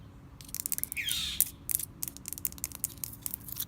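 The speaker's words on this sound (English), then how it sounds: "this bird that you hear right now" A bird chirps in quick, sharp bursts, with one longer sweeping call partway through, fairly faint over a low steady background hum.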